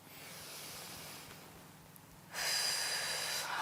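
Breathing in and out during a yoga exercise for stress relief, a soft airy breath at first, then a louder, fuller hiss of exhaled air over the final second and a half, close and alone.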